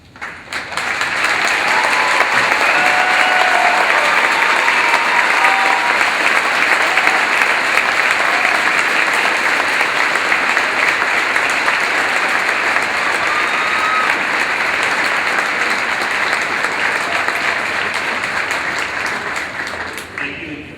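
A large graduation audience at a high school ceremony breaks into sustained, loud applause that holds steady for about twenty seconds before tapering slightly at the end, with no talk over it.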